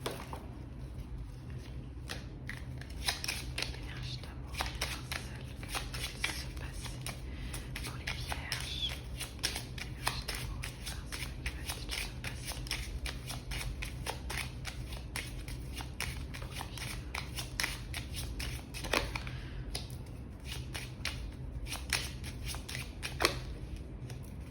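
A 32-card deck being shuffled continuously, steady soft riffling and flicking of cards close by, with faint background hum and no talking.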